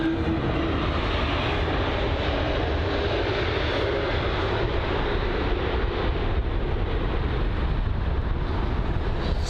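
An Air Astana airliner of a Kazakhstan airline lands roughly on a Heathrow runway, heard as a distant, steady jet engine roar mixed with wind buffeting and no distinct impact.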